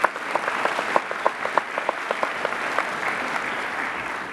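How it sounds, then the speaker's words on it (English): Audience applause at a Milwaukee School of Engineering winter commencement ceremony: steady, moderately loud clapping from a crowd with individual claps standing out, fading slightly toward the end. "How about a round of applause for these individuals?"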